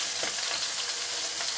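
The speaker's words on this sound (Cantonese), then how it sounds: "咁因為我哋想煎熟啲嘅，唔好煎得佢太生。" Fish sizzles steadily in a hot pan for a fish, goji berry and Chinese yam soup, giving an even, hissing crackle at moderate loudness with no talk over it.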